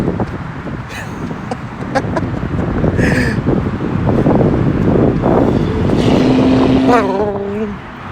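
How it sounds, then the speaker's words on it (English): Loud exhaust mufflers of cars rumbling along a sunny downtown street on Broadway, a steady roaring drone close by with wind buffeting the microphone and brief shouts in the background. "People hear that and they think racing, but it's just mufflers"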